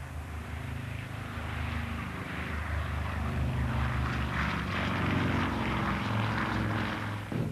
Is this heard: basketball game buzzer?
no